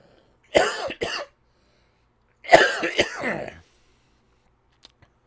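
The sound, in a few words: cough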